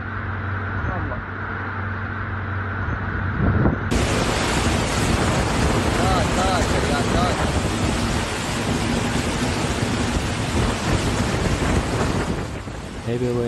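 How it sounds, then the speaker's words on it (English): Heavy rain pours down in Dubai, UAE in a loud, constant roar, building suddenly after a few seconds and holding steady with a low rumble beneath. "heavy rain continued for almost the whole day."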